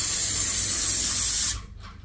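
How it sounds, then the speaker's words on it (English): A Graco airless sprayer with a 517 tip hisses loudly and continuously while spraying enamel paint on a house, then cuts off abruptly, leaving a few faint trailing hisses. "Gonna have to spray downward on that."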